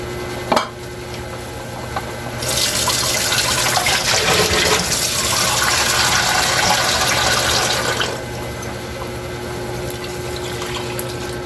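Broth poured into a pot of sinigang na liempo, a steady rushing liquid pour lasting about five and a half seconds, close and fairly loud over a constant background hum, with a small knock just before it.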